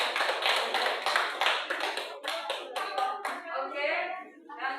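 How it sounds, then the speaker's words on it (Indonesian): Classroom applause from students, a burst of dense hand clapping that thins into scattered claps and fades out, close and lively in a room. "Beri aplaus dulu."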